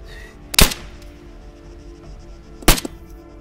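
Two sharp video-game rifle shots in Arma 3 crack about two seconds apart, each close and loud, with a brief echo trailing after, over a faint background hum.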